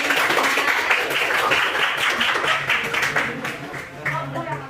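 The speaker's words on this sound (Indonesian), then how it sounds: "Berikan tepuk tangan dong buat" A classroom group claps after a presentation, a dense patter of many hands that stays loud for a few seconds and then tapers off, with voices mixed in.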